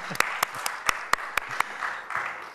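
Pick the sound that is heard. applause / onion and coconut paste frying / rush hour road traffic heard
applause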